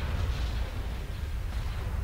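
Cannon fire in a Star Wars space-battle video game, aimed at an ion cannon: a dense, continuous low rumble of booming blasts that rolls on steadily for about two seconds with no pauses.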